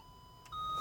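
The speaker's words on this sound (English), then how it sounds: "you can control the frequency at which the parking sensors will beep at" Parking sensor chime in a 2016 Audi Q3: a soft tonal beep begins partway through and holds as a steady, clear electronic tone inside the cabin, with no talk.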